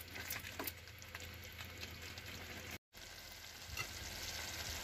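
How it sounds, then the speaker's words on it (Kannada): Thick tomato gojju for chitranna cooks down in a pan, its water evaporating and oil separating. It gives a faint, steady sizzle and bubbling close by, with no talking and a brief dropout midway. "ಇನ್ನ ಒಂದು ಸ್ವಲ್ಪ ಹೊತ್ತು ಕುದಿಸ್ಕೊತಾ ಇದ್ದೀನಿ"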